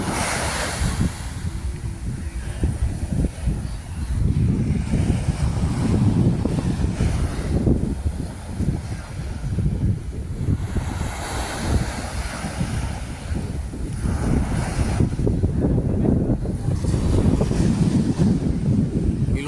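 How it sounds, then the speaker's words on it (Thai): Strong wind buffets the microphone over rolling surf and waves at sea, a steady loud roar with gusting swells throughout and no talking. "ครับลมแรงอยู่ครับลมแรงลมแรงอย่างนี้เนาะ"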